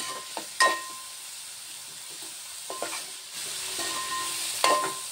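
Bitter gourd frying in a little oil in a pan, a soft continuous sizzle broken by a few sharp scrapes and taps of a stirring spoon, close by and without talk.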